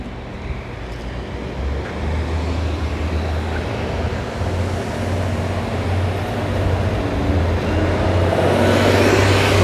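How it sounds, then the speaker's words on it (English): Cars drive along a street in San Francisco's North Beach, a continuous broad traffic rumble with engine drone that swells slightly louder near the end. "as soon as these cars get out of the way"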